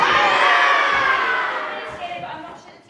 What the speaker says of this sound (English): encourages them to understand that they can cheer and feel free to interact with the performance